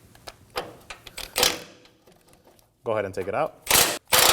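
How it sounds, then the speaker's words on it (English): A ratchet with a 21mm socket loosens a suspension crossbar bolt on a 2017-2024 Nissan Armada during an oil pan replacement. It gives bursts of sharp, close clicks, with someone speaking between them. "on the other side, we're going to use a 21mm socket to remove the bolt"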